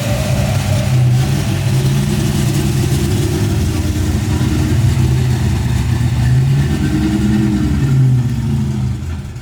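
Engine of a vintage Shelby GT350H Hertz Rent-a-Racer race car, a steady, loud mid-pitched running note with slight revving throughout, fading slightly at the very end.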